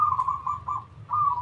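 A perkutut (zebra dove) coos in a run of soft, rounded notes, repeating in short phrases with brief pauses, close and clear with no talking.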